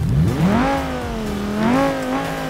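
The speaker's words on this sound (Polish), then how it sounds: "bez tłumika to auto robi, myślę, dość ciekawy dźwięk" A car with its muffler fallen off revs and runs loud and raw, the engine note rising and falling in pitch through two swells, close and alone without talk.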